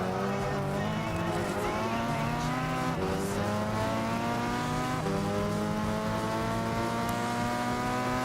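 Race car engines in Gran Turismo 6 roar at high revs, the pitch climbing steadily and dropping sharply at each gear change roughly every two seconds, with faint tire squeal, loud and close throughout.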